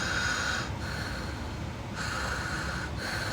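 A voice imitates a sleeping baby's wheezy, snuffly breathing in a close, steady rhythm, with brief pauses between breaths.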